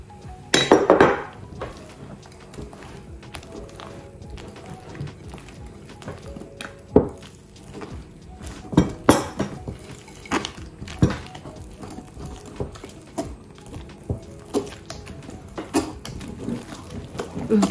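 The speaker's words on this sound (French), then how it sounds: "Et là, je vais incorporer le beurre fondu." Melted butter is stirred into coconut and poppy seed cake batter, with a utensil clinking and knocking against a bowl in irregular taps and scrapes, close and fairly loud.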